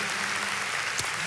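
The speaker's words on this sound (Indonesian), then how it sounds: "Kasih tepuk tangan untuk mereka." Audience applause in a church service, a sustained wash of many hands clapping at moderate distance, steady and fairly quiet throughout.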